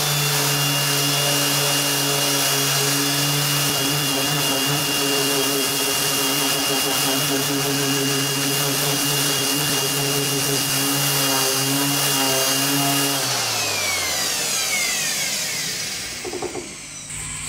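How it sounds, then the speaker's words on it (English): A random orbit sander fitted with a coarse disc works steadily over a metal clock part, a continuous loud whine and grinding buzz that runs unbroken before the tool spins down near the end. "I'm going to start with a fairly coarse random orbit disc, and we'll try to get a uniform finish on that."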